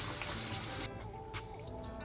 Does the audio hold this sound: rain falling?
no